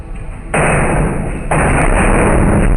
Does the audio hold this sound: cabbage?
no